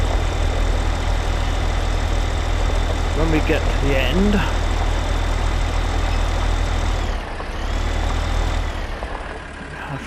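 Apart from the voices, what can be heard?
tractor engine pulling plough in Farming Simulator 15 video game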